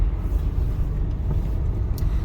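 A car idles and rumbles low and steady at close range as it pulls out onto a road, with a faint engine drone and no clear acceleration, heard from inside during a driving test.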